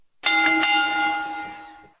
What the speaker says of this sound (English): We'll hit the bell here.